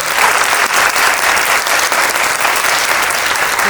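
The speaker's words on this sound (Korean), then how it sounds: "그런 연기를 했다고 그 배우분이 생각하시면 박수 한번." Dense, steady audience applause at a Korean film preview screening with a post-screening talk, sustained and loud from start to finish with no speech over it.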